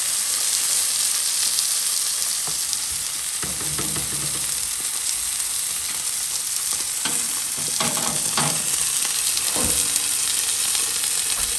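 Steady, loud sizzling of oil on a hot Blackstone flat-top griddle at medium heat, with occasional scraping and clinking of a utensil over the constant hiss.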